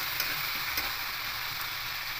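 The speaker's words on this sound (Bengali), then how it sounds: "এভাবে আলু আর ডাটাগুলোকে অল্প ভেজে নেব" Potatoes and leafy green stalks, seasoned with salt and turmeric, fry over medium flame in a plate-covered pan, producing a dense, even sizzle that holds steady and close, with a couple of faint ticks.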